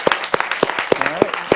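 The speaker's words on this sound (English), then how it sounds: "So let's give them a round of applause." Sparse, evenly spaced claps from a small workshop audience thanking the staff, a handful of sharp hand strikes about a third of a second apart, with faint voice-like tones mixed in.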